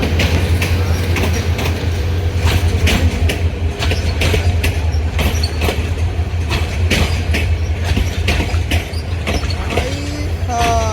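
A loaded passenger train from Kishoreganj rolls past up close and loud, steady rumble with rhythmic clickety-clack of wheels over rail joints and a brief squeal near the end.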